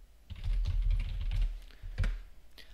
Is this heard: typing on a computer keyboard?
yes